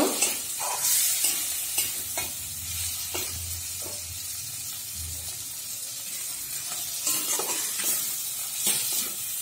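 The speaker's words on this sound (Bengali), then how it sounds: "চালটা দিয়ে দিলাম, একটু কষিয়ে নেব।" Rice is fried in a pan for fish head muri ghonto, stirred with repeated scraping strokes over a low sizzle that quiets in the middle before the stirring picks up again.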